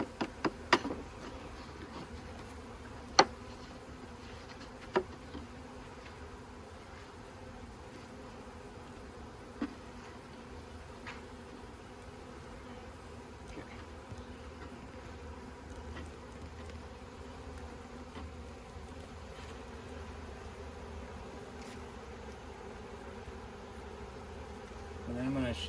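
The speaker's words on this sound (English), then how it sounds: "I'm going to shake all these excess bees in there" Honeybees drone continuously as a swarm is moved from a trap into a hive, a steady close buzz with occasional sharp knocks and taps of wooden equipment.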